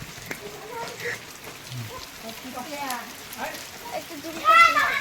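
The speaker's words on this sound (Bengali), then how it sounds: "বৃষ্টি আরো বেড়ে গেল আগে, আরো জোরে হচ্ছে এখন বৃষ্টি" Heavy rain falls steadily in a village, a dense, even hiss of drops on surfaces, with children's voices and chatter mixed in close by.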